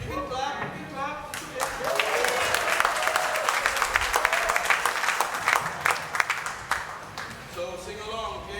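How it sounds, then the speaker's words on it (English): An audience at a live drum clinic claps along in steady rhythmic time, loud and sustained over several seconds, with a voice talking at the start and end. "You can clap, you can clap."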